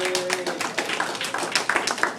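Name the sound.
audience applauding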